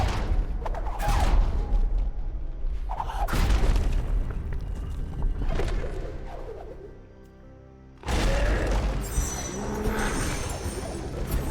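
Grenade blasts in the Ori randomizer game, a series of booming bursts: loud low explosions around the start, near three and eight seconds, each trailing off into rumbling debris, with game effects between them.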